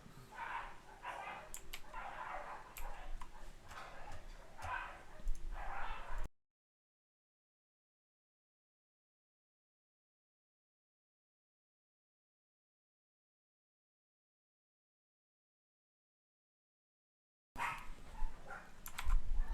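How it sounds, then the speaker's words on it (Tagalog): Dogs fighting, with snarling and barking in busy bursts over keyboard typing nearby, then a long silence before the scuffle noise returns briefly. "Yung mga aso namin nag-aaway."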